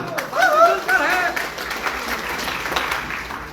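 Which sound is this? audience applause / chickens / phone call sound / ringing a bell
audience applause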